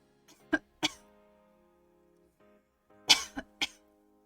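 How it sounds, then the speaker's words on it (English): A person gives several deliberate, dry coughs, two sharp ones close together, then a pause and a cluster of three more, close and fairly quiet in a still room. "Okay, I'm going to cough."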